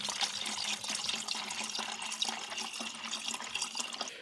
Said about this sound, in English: going to put some water in just to get that circulating